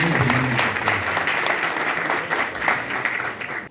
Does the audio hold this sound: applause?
yes